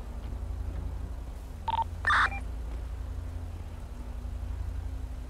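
Phone dialing in the video game GTA 5: two short tone beeps, one brief and one slightly longer, sound over a steady low engine-like hum.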